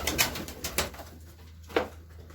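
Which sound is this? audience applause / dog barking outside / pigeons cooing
pigeons cooing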